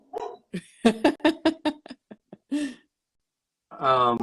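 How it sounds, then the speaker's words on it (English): A dog outdoors gives a quick run of short barks and yips, fairly close and clearly heard, followed by a pause and then a longer whine or howl. "can you hear my dog? Yeah. Oh my gosh, she's outside."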